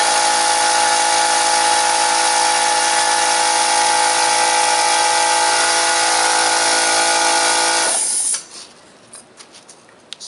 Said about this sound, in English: So the air compressor is going to cut in and out to maintain the pressure in the tank.